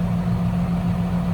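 A car engine idles close by after repair work, a steady low droning hum with an even pulsing rumble and no talk over it.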